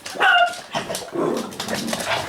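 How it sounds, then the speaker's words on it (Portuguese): A pet dog barks loudly and close by, wanting to be let in: a sharp bark, then a few muffled follow-ups as a door and room noise are heard. "tenho aqui o meu cão a querer entrar"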